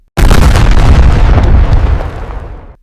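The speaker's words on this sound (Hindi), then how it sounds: "कुछ ही सेकंड बाद पहला भीषण विस्फोट हुआ।" A single massive, close explosion bursts in suddenly and roars loudly for about two seconds before slowly rumbling and fading.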